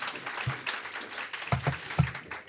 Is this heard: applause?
yes